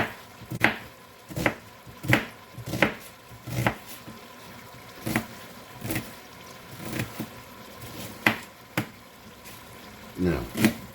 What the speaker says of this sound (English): I want to give these a smaller chop if I can, because you don't want big old pieces of onion in your chili.